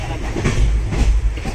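A passenger train rolls along the rails with a steady low rumble and rhythmic wheel clatter, heard from close by inside the moving carriage.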